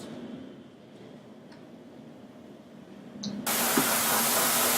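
Nail airbrush gun blown out to clean it: quiet background at first, then a sudden loud, steady hiss of spraying air starts near the end and holds, close by.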